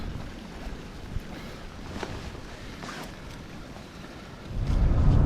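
Relentless, strong wind gusting at Elk Creek in Steelhead Alley on a frigid day with 40 to 50 mph winds, a steady broad roar that swells louder near the end.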